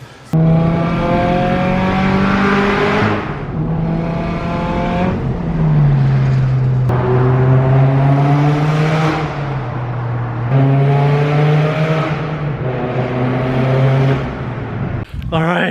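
A tuned 250 kW Subaru BRZ is driven in hard acceleration pulls on a sunny day, its engine note climbing repeatedly through the gears with brief dips at shifts, loud and close from inside the car.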